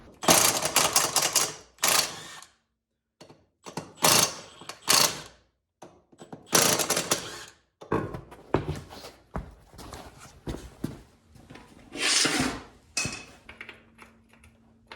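Bursts of a power impact tool working loose the knuckle on a neglected Yamaha Bear Tracker 250 ATV, coming in short repeated rattling runs with pauses between them, loud and close.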